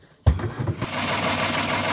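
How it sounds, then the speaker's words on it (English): A Volvo Penta marine diesel engine on a sailboat turns over with a sudden loud crank and catches, settling into a steady close-up running rumble. "going to start the engine"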